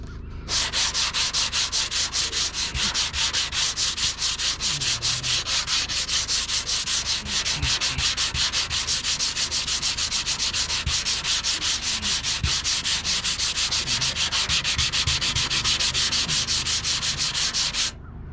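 Paint being hand-sanded on the body of a 2001 Ford Focus: close, continuous rhythmic rubbing strokes that repeat evenly for a long stretch, with no talking.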